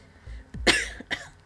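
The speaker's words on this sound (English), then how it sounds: "Damn cough." A person coughs twice, a sharp harsh burst followed by a shorter one, close and fairly quiet against a near-silent background.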